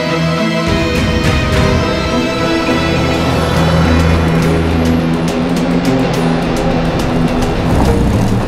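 A car drives at speed with a loud, steady engine hum and road rumble throughout, with no voices heard.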